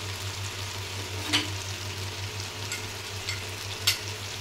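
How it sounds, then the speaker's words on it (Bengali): Spices hit hot oil with onion and garlic that have been fried down, a steady close sizzle and hiss with a few brief sharper crackles and a low hum underneath. "পেঁয়াজ রসুনটা কষা হয়ে গেছে, এবার আমি পরপর মশলাগুলো দেবো"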